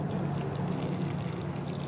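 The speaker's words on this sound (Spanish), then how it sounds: "Solo vamos a echar agua y listo." Water is poured over soil where a mango seed has been planted, giving a soft, steady splashing trickle with no talk.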